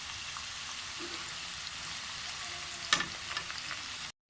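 Taro root (arbi) frying in oil until light brown, a steady close hiss of sizzling with a brief stir or clatter near the end, no talking.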